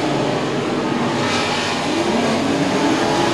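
B-Mod race cars at Princeton Speedway roar in a dense, steady engine drone with no break over the whole stretch, loud and continuous as the pack circles the track.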